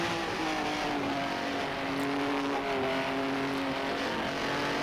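A 1950s Formula 1 race car at Pescara holds a steady, droning engine note at speed, its tone rising gradually as it pulls through a gear, heard from on board at moderate loudness.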